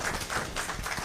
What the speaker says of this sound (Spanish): un aplauso al Padre